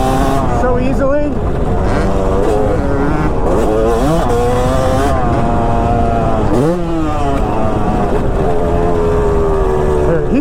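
Yamaha YZ250 two-stroke dirt bike ridden hard, its engine wailing loud and close with rising and falling revs through gear changes, while people talk over it.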